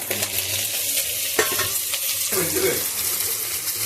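Tomatoes fry in a pan of oil for potato kurma, a steady sizzle with the scrape and clatter of stirring and a bright burst of hissing as they hit the fat.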